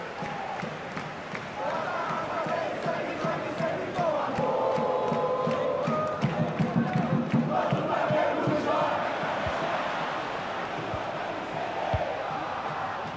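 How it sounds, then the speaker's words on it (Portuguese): A stadium crowd roars in the FIFA 23 video game during a Flamengo versus Aucas Libertadores match, loud sustained cheering and chanting with swells and claps, under a commentator's voice. "a torcida vibra a cada lance"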